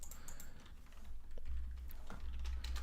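Keyboard shortcuts are tapped on a computer keyboard, a few quiet, separate key clicks over a low hum of background noise.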